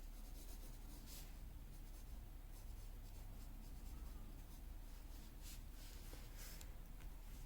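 Pencil scratching on paper while owl talons are drawn, a faint, continuous soft scraping with small strokes and taps, close and quiet.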